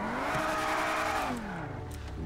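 A McLaren P1 in GTA V, its engine revving with a loud, steady tone that climbs and then drops in pitch, close and alone.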